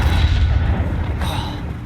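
A Confringo spell blast in Hogwarts Legacy, a loud, heavy boom with a deep rumbling body that fills the moment before tailing off.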